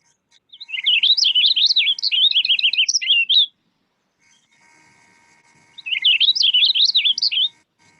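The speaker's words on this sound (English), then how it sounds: "the purple finch, who looks like he's been dipped in raspberry juice, has a rich musical warble" A purple finch sings two rich, rapid warbling phrases, each about three seconds long and separated by a pause, clear and close against near silence.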